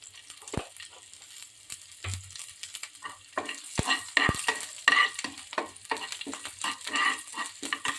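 A tempering of spices fries in a small pan, with sharp crackles and pops over a light sizzle, broken by several distinct metallic taps and knocks as it is stirred, close by.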